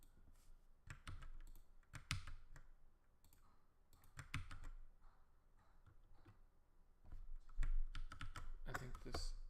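Bursts of quick clicky keystrokes on a computer keyboard come in uneven clusters with short pauses, close and fairly quiet, with no talking.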